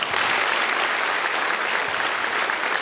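Enthusiastic applause from a large crowd at a Veterans Day panel, a dense continuous wash of clapping that stays loud and even from start to finish.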